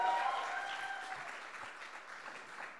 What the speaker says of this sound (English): Can we get a round of applause for the guys coming up?